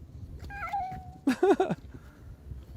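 Two cats meow close by: first a drawn-out, high, whiny mew, then a shorter cluster of sharper, rising meows.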